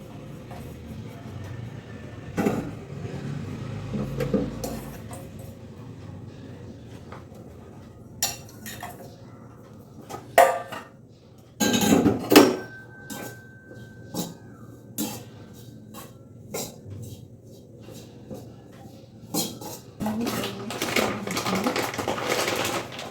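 Grated coconut with organic jaggery being roasted in a pan, a metal spoon scraping and clinking against the pan in scattered bursts, with quiet gaps between stirs.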